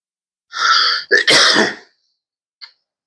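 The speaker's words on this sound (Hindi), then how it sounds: "बहुत खांसी हो रही है यार" A single loud cough with a raspy throat-clearing quality, close up, followed by a brief faint sound and then silence.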